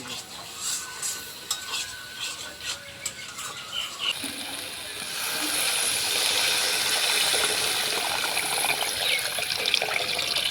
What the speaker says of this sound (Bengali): এখন ঝোলের জন্য জল দিয়ে